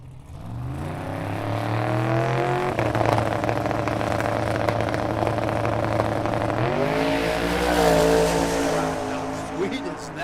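A 1972 Chevrolet C10 pickup truck on big tires launches down a drag strip in the left lane, its loud engine roaring and climbing through gear changes over ten seconds while an announcer talks over it.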